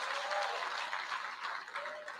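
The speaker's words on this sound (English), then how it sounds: "you've got to clap your hands." Hands clapping from an audience at the launch of a youth entrepreneurship investment bank: a thick, continuous patter of applause at steady level, with faint voices mixed into the crowd.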